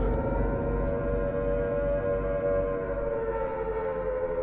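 A loud, continuous siren wail from the monster Siren Head in a video game drones steadily throughout, deep and harmonic with a warbling, eerie tone.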